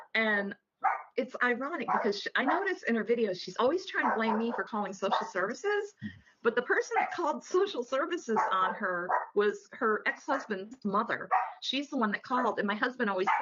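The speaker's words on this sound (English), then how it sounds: "That's my dog" A dog barks in the background, mostly buried under continuous close conversational talk from a woman.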